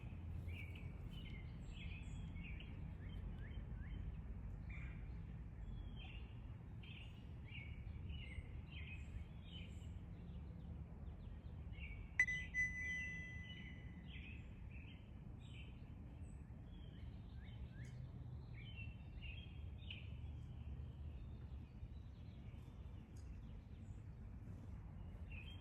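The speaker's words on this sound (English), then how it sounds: "let's just take a minute and listen to the birds" Small birds chirp and twitter outdoors on a farm at sunset, quiet and somewhat distant, over a low rumble of wind or ambient noise.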